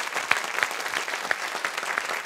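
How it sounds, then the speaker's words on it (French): Studio audience at a talk show bursts into brisk applause, a close, dense clatter of many hands with a few sharper individual claps standing out over the steady wash. "Eh, applaudissements, s'il vous plaît."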